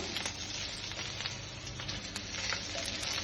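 Artichokes sear in a pot, giving off a steady, soft sizzle and crackle that stays even throughout, quiet and close, with no voices.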